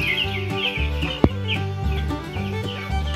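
Week-old broiler chicks in a netted poultry shed give a busy, continuous chorus of cheeping and clucking, close and loud, with one sharp knock partway through and no talk.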